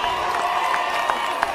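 Outdoor crowd at a political rally in Mathare cheering and applauding, a dense, steady roar of voices with scattered claps and whoops, moderately loud and sustained.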